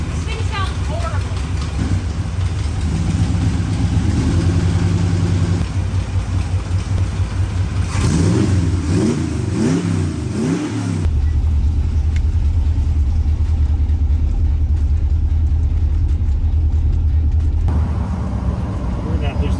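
A SEMA build car's engine idles and revs with a rough, uneven rumble, rising in a few quick blips midway, loud and close, while people talk over it.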